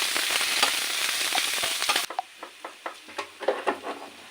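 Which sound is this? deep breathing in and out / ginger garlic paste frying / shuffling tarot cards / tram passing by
ginger garlic paste frying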